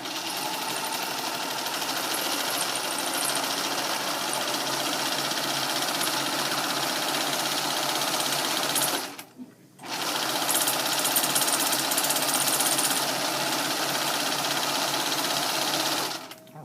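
A sewing machine runs steadily while stitching a sample row of different machine stitches, a continuous loud whirring drone that stops briefly midway, then resumes and runs on without talk.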